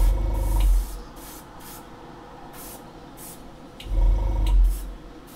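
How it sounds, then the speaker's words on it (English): An airbrush spraying paint gives soft hissing bursts, with a louder compressor-like rumble at the start and again near the end, close and without talk. "that's enough airbrushing"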